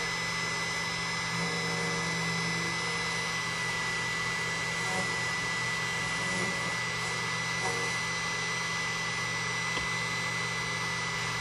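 A key duplicating machine cuts a key blank at a locksmith's shop. It gives a steady, dense whirring grind with a constant motor hum underneath, close and unbroken the whole time, and no one speaks.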